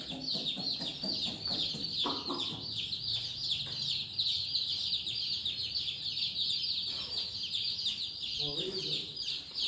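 A flock of about 100 colorful chicks cheeps continuously at close range, a dense high chorus of chirps with some clucking mixed in, while people talk over it throughout.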